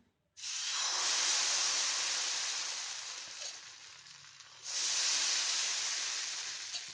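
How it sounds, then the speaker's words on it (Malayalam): Appam batter hits a hot appam pan with a loud, steady hiss that dips briefly before a second strong burst of hissing, alone with no talk. "ഇപ്പോൾ ആപ്പച്ചട്ടി നന്നായിട്ട് ചൂടായിട്ടുണ്ട്. ഇനി നമുക്ക് ബാറ്റർ ഒഴിച്ചു കൊടുക്കാം."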